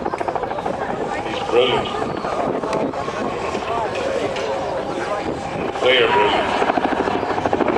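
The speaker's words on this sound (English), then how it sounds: "Look at that manoeuvre is one of these Chinook signature manoeuvres, a 270-degree quick stop, a kind of handbrake turn for a helicopter." A Chinook helicopter performs a display at Biggin Hill Airshow, including a 270-degree quick stop, with a loud, steady rotor thrum and rushing wind while a commentator speaks over it.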